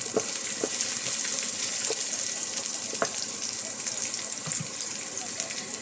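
Garlic sautés in a hot pan with a steady, bright sizzle and hiss, broken by a few soft clinks and stirring taps.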